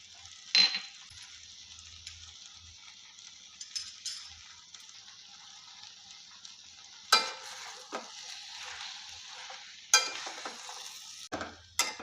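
Banana flower sautés with cumin and coriander powder in a pan, a low, constant sizzle broken by several sharp spoon clinks and scrapes against the pan as it is stirred, with no talking.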